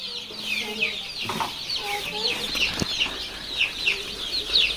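Chicks and chickens of Tiger, Fayoumi, layer and local breeds cluck and chirp steadily in a busy flock, with scattered higher peeps and a brief flutter, fairly close and continuous.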